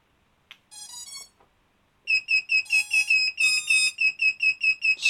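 Electronic speed controllers on a Racerstar BR2306S-powered Stingy-style FPV drone frame beep right after the battery connects with no radio linked: an ascending startup tone sequence, a pause, then a steady loud train of repeated high beeps.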